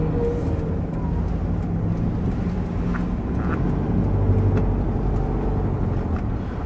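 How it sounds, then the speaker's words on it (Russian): Toyota Land Cruiser Prado engine droning under load while driving, a steady low rumble with road noise inside the cabin, continuous and moderately loud. "мотор сильно напрягается, чтобы передвигать автомобиль"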